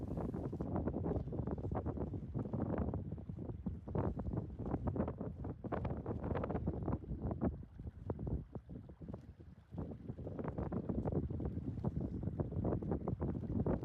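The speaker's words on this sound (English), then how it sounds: "I had to confront with wild wind." Strong, gusty wind at a lake, buffeting the microphone in loud, close, roaring rushes that surge and ease repeatedly, with no voices.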